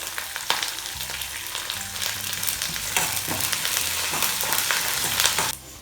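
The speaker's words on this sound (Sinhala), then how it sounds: "ඉඟුරු සුදු ලුණු ලාවට ෆ්‍රයි වෙගෙන එද්දි අපි කරපිංචා සේර ටිකක් එකතු කරමු." Ginger, garlic and curry leaves fry in a pan with a steady, loud sizzle. Occasional stirring scrapes and crackles run through it and build over a few seconds before stopping abruptly.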